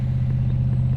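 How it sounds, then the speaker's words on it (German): An old-fashioned car in a Back to the Future video game gives a steady, loud low engine drone that stays constant throughout, with no pauses or voices. "Achso, nur ein Auto. Nur ein altmodisches Auto."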